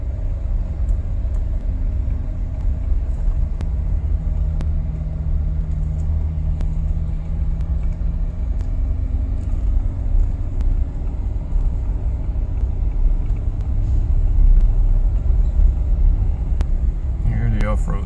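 A Jeep rumbles steadily along a rough off-road route in Aruba, its engine low and continuous from start to finish with occasional bumps and knocks, while people talk in the cabin.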